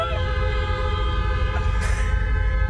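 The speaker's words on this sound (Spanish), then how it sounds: "no escuchaba tantas bocinas. Encima retumba acá dentro del barco." Vehicle horns blare in long, sustained blasts inside a ferry crossing from Spain to Morocco during a storm, loud and echoing against a heavy low rumble, with no voices over them.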